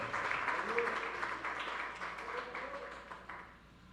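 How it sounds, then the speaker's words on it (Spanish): A church congregation applauds during a service, a dense patter of many hands mixed with voices calling out, steady at first and then gradually thinning toward the end. "Denle un aplauso al que vive"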